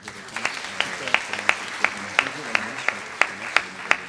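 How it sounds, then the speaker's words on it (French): Scattered, fairly regular claps from a small audience at a Collège de France colloquium on artificial intelligence, each crisp hit rising over a steady murmur of voices and room noise. "Sous vos applaudissements."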